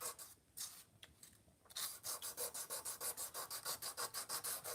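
Kitchen knife sharpened on a 220 grit stone, steady rhythmic back-and-forth rasping strokes, close and fairly loud, a few irregular scrapes at first settling into an even repeated pattern.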